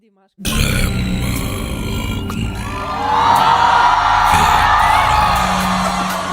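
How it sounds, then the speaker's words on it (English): A low, gravelly, creaking vocal fry voice sustains a rough rattling tone, loud and close, with crowd-like noise around it. "The vocal fry is the sound that allows us to close the vocal cords very delicately"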